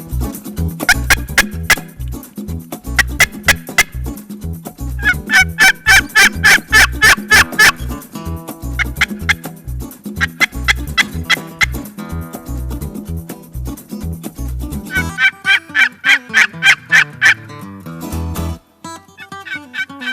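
Wild turkey gobblers in Michigan's Upper Peninsula gobble loudly and repeatedly, their rattling calls overlapping one another in close, rapid bursts that fill the air with little pause.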